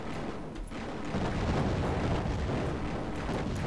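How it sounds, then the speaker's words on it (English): The death ray weapon fires in the video game Raptor: Call of the Shadows, a continuous rough, roaring blast of crackling noise that holds steady for nearly four seconds with no voices over it. "This is the death ray."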